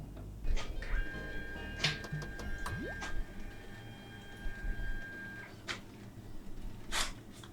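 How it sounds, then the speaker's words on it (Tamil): A Brother DCP T220 inkjet printer prints a colour page on plain A4 paper, with quiet mechanical whirring, ticking clicks and a sustained motor tone, close by with no talk. "சூப்பராக கலர் பிரிண்ட் அவுட் போட்டுருச்சு."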